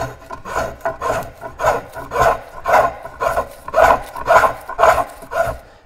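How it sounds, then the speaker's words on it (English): A woodworker carves a wooden paddle, each rasping stroke of the blade peeling off a shaving in a steady rhythm of about a dozen close, scratchy pulls. "I am taking off shavings"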